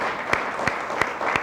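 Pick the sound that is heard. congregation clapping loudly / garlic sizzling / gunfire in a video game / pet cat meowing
congregation clapping loudly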